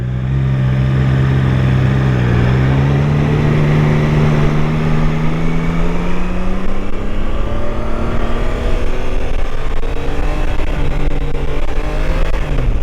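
A 2022 Triumph Tiger Sport 660 motorcycle is ridden, its engine droning loud and close with pitch dipping and climbing through a turn, under steady road and wind noise.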